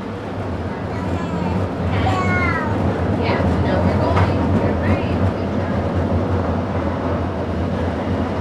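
A historic Crane M2 streetcar at a Kenosha, Wisconsin streetcar day gives off a steady, loud low rumble for the whole stretch, with faint squeals over it and voices nearby.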